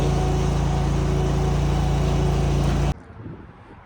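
A Scag Turf Tiger 2 riding mower, fitted with a replacement carbureted engine, runs at a loud, steady drone close by, then cuts off abruptly near the end, leaving faint background noise.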